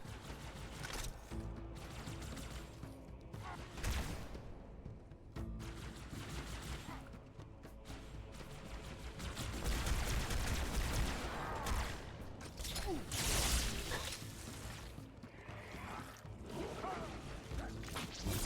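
Gunfire against the Flood in Halo: The Master Chief Collection: repeated bursts of shots mixed with mechanical clanks and whooshing combat effects, steady and moderately loud through a long stretch of action.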